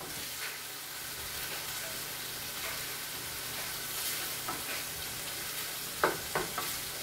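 Ground beef sizzles in a frying pan for taco salad, a steady close frying hiss with a few scraping stirs near the end.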